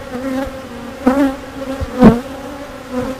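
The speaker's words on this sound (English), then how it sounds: "finally the bees from number 1 are starting to chill out. They're still buzzing me a little" Honeybees buzz loudly around an open beehive during an inspection, a close, steady insect drone with a few louder passes as individual bees fly right by, and no voices.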